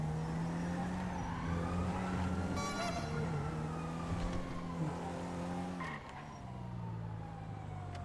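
A car engine revs and drives in GTA 5, its pitch rising and falling with gear changes, while a siren wails and tyres skid nearby.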